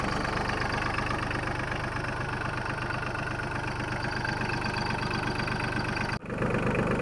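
A Farmtrac Atom 30 tractor engine idles close by, a continuous low rumble with an even throb that holds throughout, broken by a brief dropout near the end.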